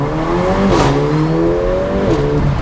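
Mercedes-AMG CLA 45 engine revs hard, climbing in pitch and dropping back twice, with crackling pops and bangs on the overrun, loud and close with no voices.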